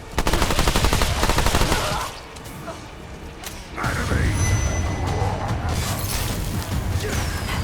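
Loud, close gunfire from the shooter video game Remnant II, with a dense rapid burst at the start, a brief lull, then more sustained shots and impacts; a voice speaks briefly amid the shooting.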